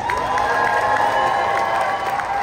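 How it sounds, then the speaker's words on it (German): An audience claps and cheers in a sustained wash of noise, a dense crowd roar with whistle-like tones that stays at a constant loud level throughout. "Wir klatschen und jubeln dabei. Wir sind richtig laut bei der Stufe 2."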